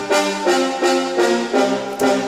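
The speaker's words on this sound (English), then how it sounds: "the brass main, which is this one here, again, from Kashmir, Seven Skies, this dope library" A brass chord from the Kashmir Seven Skies sample library, repeated in several swelling stabs with steady spacing, full and close with no voices.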